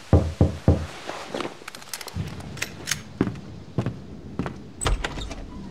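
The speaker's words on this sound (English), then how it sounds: "I had woken up to a knock at my door." Knocks on a door in the Max Payne 2 video game: a quick run of three sharp raps, then scattered softer knocks and thumps against a dim room tone, close and loud.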